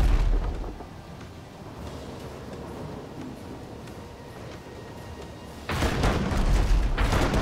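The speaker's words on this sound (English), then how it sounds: "I'm just gonna keep this guy on his toes with my mortars" Mortar fire in the ship-combat game Abandon Ship, a heavy boom at the start and another loud blast near the end, with a low rumbling battle background in between.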